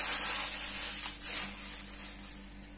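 Winter vegetable stew made with Turkish produce simmers in a covered pot, giving a soft, steady steamy hiss that holds at low level throughout with no voices.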